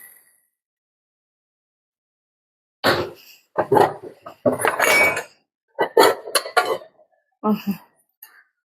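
Several short clinks and clatters of a ceramic plate set down on a metal pot, following a stretch of near silence.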